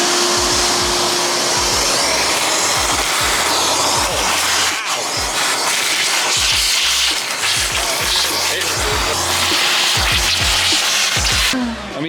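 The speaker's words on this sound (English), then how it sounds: "once we're done vacuuming, you gotta blow it all out with the air compressor" A vacuum cleaner hose whines and roars steadily while it sucks out dry dirt and debris from inside an old car that sat in a field for ten years, with repeated low thumps under the noise.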